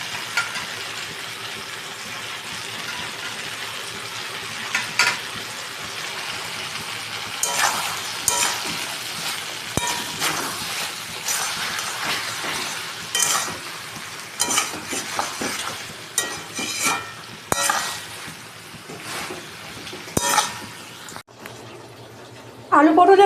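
Ginger paste and tomatoes frying over a medium flame, stirred with a utensil that scrapes and clinks against the pan, giving a steady sizzle with irregular bursts of stirring throughout.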